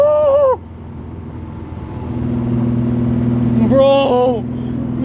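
A Datsun 280Z engine drones and rises in pitch as it pulls hard after a downshift, loud and close, with excited voices at the start and near the end.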